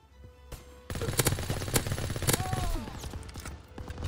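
Rapid gunfire bursts in a WWII video game, with dense repeated shots and a loud sustained crackle of fire after a quieter opening.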